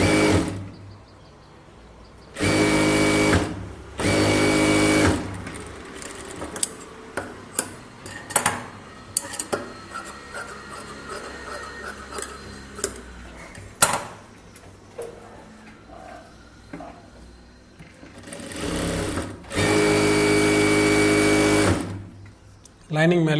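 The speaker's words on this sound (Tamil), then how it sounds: "லைனிங் மேலே அப்படியே ஒரு எட்ஜ் தையல் போட்டுக்கோங்க." A sewing machine runs in several sustained bursts while edge-stitching a cotton blouse lining for a 44-size close-neck blouse, with quieter handling and a voice speaking between the runs.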